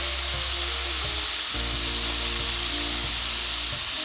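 Andouille sausage frying in a pan for shrimp and grits, a loud dense crackling sizzle that stays constant throughout, with a low steady hum underneath.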